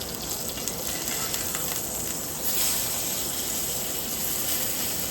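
A steak sears in a hot pan just after being flipped, giving a steady, loud, close sizzle that swells a little past the midpoint and holds alone with no talking.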